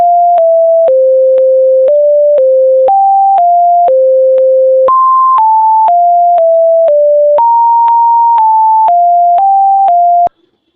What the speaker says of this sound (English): So first we listen to the original tones.